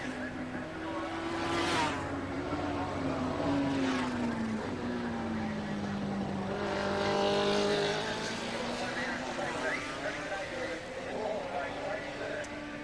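A Kawasaki GPZ motorcycle in a 1984 street race at Gracefield passes, its engine whine rising and falling in pitch, moderately distant, heard under a race commentator's continuous talk.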